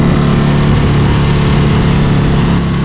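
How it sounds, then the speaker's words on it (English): A 2024 Indian Pursuit motorcycle engine runs close by with a steady, even rumble, a constant low drone with no revving or voices over it. "Just listen to this sound on this engine real quick."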